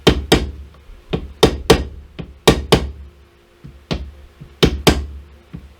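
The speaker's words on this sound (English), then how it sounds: "Take a hammer and a scrap piece of wood, something soft, which I think this is, and I'm just going to tap it a little bit." A hammer taps on a soft scrap wood block to seat an inlay into a handmade guitar neck, giving about a dozen sharp, close knocks, often in quick pairs with short pauses between.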